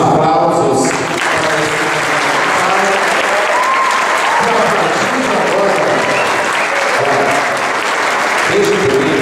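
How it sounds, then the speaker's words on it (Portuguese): Wedding guests applaud the newly married couple in a loud, dense burst of clapping that holds steady for about nine seconds with no talk over it. "Os nossos aplausos."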